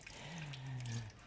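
Coolant water draining from a Mazda RX-8 rotary engine, a quiet, steady trickling flow with a faint low gurgle, heard alone for about a second.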